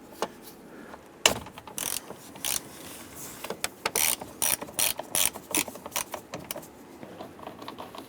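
A ratchet with a 10mm socket clicks in quick, uneven bursts while removing a bolt on a 2002-2008 Dodge Ram 1500, close and fairly quiet, with short pauses between strokes.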